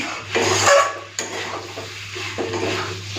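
Mutton stirred and sautéed in a pot: a close, scraping stir with a faint sizzle underneath, a louder burst of scraping early, a brief clink, then continued moderate stirring.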